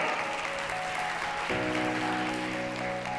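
Audience applause welcomes a volunteer from the front rows up onto a stage during an illusionist's talk, a steady wash of clapping that fills the room throughout with tonal music running beneath it.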